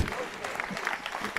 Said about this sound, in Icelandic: gefum honum gott klapp